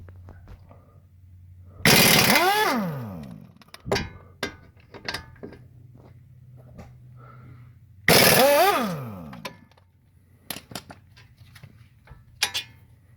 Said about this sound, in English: and turn your wheel, 17 mil, remove the caliper brackets